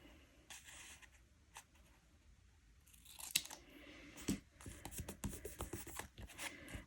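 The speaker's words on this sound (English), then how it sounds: "I'm going to assume that I need scissors to cut this" Scissors cut paper in short crisp snips and rustles, close and quiet, in a few bursts that grow busier toward the end, with no talk.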